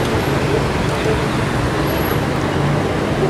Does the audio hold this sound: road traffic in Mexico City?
yes